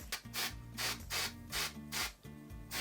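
A hairspray can shaken vigorously up close, about six rhythmic rattling bursts in quick succession, each swish clearly separated.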